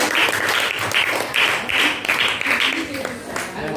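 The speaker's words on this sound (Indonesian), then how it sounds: "Beri tepuk tangan untuk kelompok 2" Students in a classroom in Tegal clap for a presenting group in a loud, rhythmic unison pattern of bursts, with voices speaking over and between the claps.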